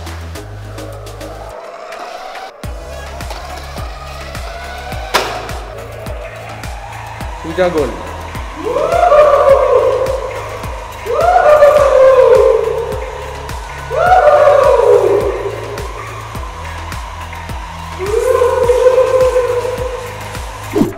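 A toy car drives and skids, its motor whirring in repeated rising surges with squealing swerves over a steady rhythmic background beat, while people talk briefly.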